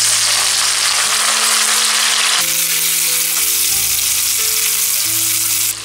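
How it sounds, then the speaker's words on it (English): Marinated anchovies fry in hot oil in a vessel, giving a loud, steady, dense sizzle that runs continuously throughout with no talking. "Now add the marinated anchovies or nethili."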